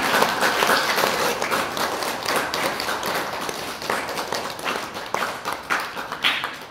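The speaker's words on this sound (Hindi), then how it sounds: "सब कोई करताल में ताली में उनको धन्यवाद दीजिए" A seated gathering claps in thanks, many hands producing a dense, sustained patter of applause that holds steady, then thins and fluctuates toward the end, loud and close with no talking.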